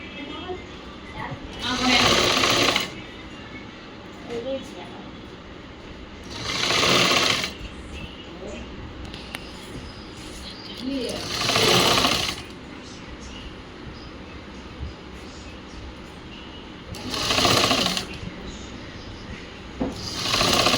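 A tailor's sewing machine stitches a cut blouse in four or five loud, steady bursts of rapid mechanical whirring, separated by short quiet pauses in which the fabric is adjusted.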